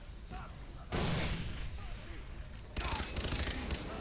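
Rapid bursts of gunfire in the video game Far Cry 3 crackle in two loud volleys, with quieter shots and noise between them.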